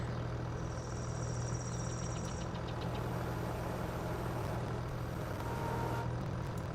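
A tractor engine in Farming Simulator 22 chugs at a steady, low diesel rumble with a constant hum, joined briefly by a higher mechanical whine near the start, running on without talking.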